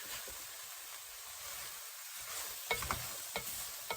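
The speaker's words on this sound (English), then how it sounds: "Give it all a stir as well and let that cook for about probably 10 minutes or so." Diced beef frying in a pot, a soft steady sizzle for the first half, then several distinct scraping knocks of a utensil being stirred through the meat near the end, with no voices.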